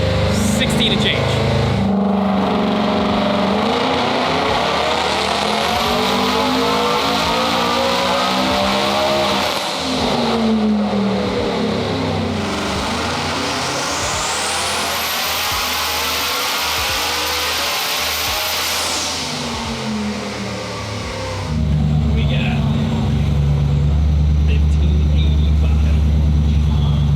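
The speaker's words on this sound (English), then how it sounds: "Just revving it out" A 1,716 hp Coyote-powered 4WD Ford F-150 revs hard on a dyno, engine pitch sweeping up and down through two long loud pulls with chatter over the top, then settles to a rumbling idle near the end.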